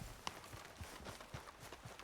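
Rhythmic horse hooves clip-clop at a steady trot in Red Dead Redemption 2, fairly soft, with a sharp click near the start.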